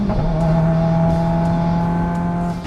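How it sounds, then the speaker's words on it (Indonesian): Subaru WRX turbo sedan accelerates hard and loud, its engine drone holding steady with a brief break near the end as it flat-foot shifts into the next gear. "ke gigi 4, flat foot shiftingnya berhasil, dan kita masuk gigi 5"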